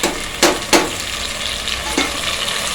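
Food fries in a pan with a steady sizzle while a spoon stirs it, giving a few sharp scrapes and knocks near the start and again toward the end.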